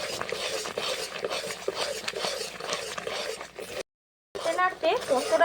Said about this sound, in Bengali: গোলমরিচ দিয়ে ভালো করে একটু মিশিয়ে নিচ্ছি